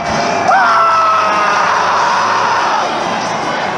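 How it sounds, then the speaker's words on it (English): Stadium crowd at a Cincinnati Bengals playoff game roaring in celebration, a loud, sustained wall of cheering and yelling with a few whistles rising above it. "the pure joy and ecstasy that erupted from this crowd"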